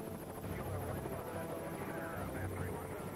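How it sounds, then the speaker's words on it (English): Presidential helicopters flying in formation over Washington, a steady rotor drone and engine roar throughout, with a narrator talking over it. "In the sky above Washington, two identical helicopters join the president's white top in an aerial dance of"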